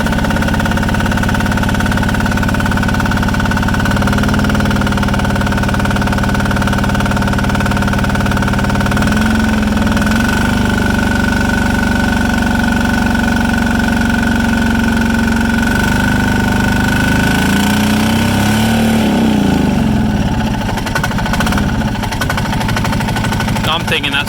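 A Polaris 455 diesel engine from a barn-find machine idles loudly and close up for the whole stretch, a steady rough mechanical drone with a slight pitch shift partway through and no pause.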